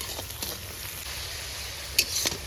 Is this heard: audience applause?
no